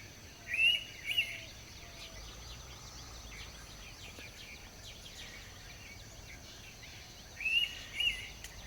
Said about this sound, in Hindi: यहाँ से कुछ ही दूरी पर हमें इंडियन पिट्ठा की आवाज़ सुनाई दे रही है।